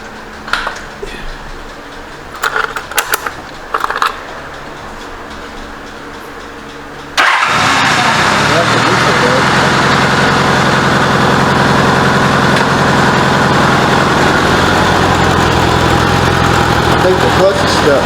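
A 1985 Honda Goldwing GL1200 motorcycle, freshly carburetor-rebuilt, cranks with a few short bursts and then catches, settling into a loud, steady, close idle that runs unbroken for about ten seconds.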